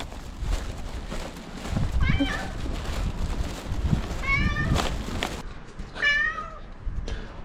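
A cat on a street in Hokkaido, Japan, meows three times in short, rising calls, close by, over a constant outdoor background hiss.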